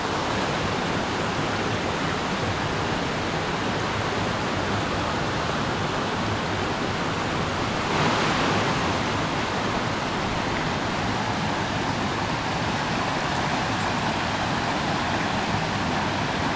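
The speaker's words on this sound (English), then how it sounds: "And here are the Step Falls. Just a beautiful series of cascades and pools." Step Falls, a series of cascades and pools in Grafton Notch State Park, rushes in a steady, loud broadband roar of falling water that holds constant throughout, with no voices.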